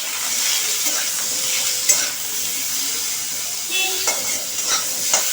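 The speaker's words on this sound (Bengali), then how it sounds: "এইবার হলুদটা দিয়ে দিলাম। এইবার ভালো করে আমি নাড়বো।" A spoon stirs turmeric through a frying prawn curry made with small prawn fritters. The pan sizzles steadily and close, with occasional soft scrapes and clinks of the spoon against the pan.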